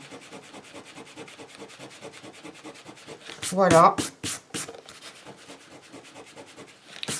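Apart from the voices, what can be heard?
homemade eraser rubbing out pencil marks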